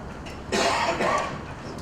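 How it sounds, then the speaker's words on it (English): One hoarse cough from a person with a summer cold, fairly close, followed by a smaller second burst over a steady background hiss, during a school board meeting. "I do apologize for my cough"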